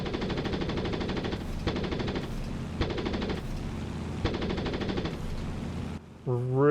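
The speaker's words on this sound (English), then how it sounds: "Really, really throaty sound to those guns, and you hear the canopy shaking with the guns firing" La-7 fighter plane guns in the DCS flight simulator, loud throaty bursts of rapid fire with a rattling cockpit canopy, repeating in about five long volleys before stopping, followed by a rising engine tone.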